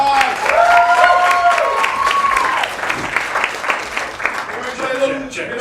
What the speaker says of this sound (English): Give Magic Stick a big round of applause.